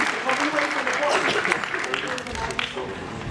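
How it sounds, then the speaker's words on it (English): A conference keynote audience claps and cheers in a dense burst that thins and fades toward the end, with voices mixed in among the crowd. "I think they deserve the biggest round of applause"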